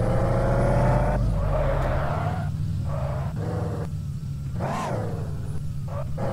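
Car in Car For Sale Simulator driving and drifting, engine roaring and revving in uneven bursts with pitch swings and brief tire squeals, loud and close, no talk over it.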